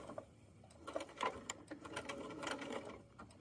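A sewing machine back stitches the bottom seam of a fanny pack at a quarter-inch seam allowance. It makes soft, rapid clicking and ticking bursts, quiet and close, with no talking.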